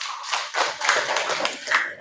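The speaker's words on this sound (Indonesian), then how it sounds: "tepuk tangan lu buat Tel Salsa ya." Students in a classroom clap their hands in brief, fairly quiet applause made of dense, scattered claps lasting a couple of seconds.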